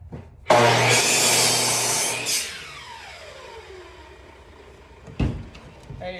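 A power saw cuts through wood for a table build, a loud burst of cutting noise lasting about two seconds that then winds down, followed by a sharp knock near the end.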